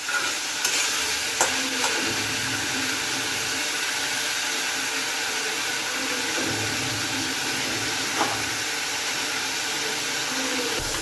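Masala with coriander seeds roasting and sizzling in a pan for paneer tikka, a steady close frying hiss with occasional stirring scrapes and clinks throughout, no talking.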